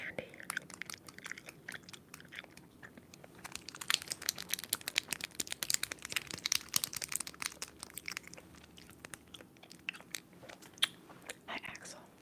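Close-up chewing of a chewy ginger candy, with soft wet bites, crinkles and crunchy clicks that thicken in the middle, quiet and intimate, with faint whispering in places.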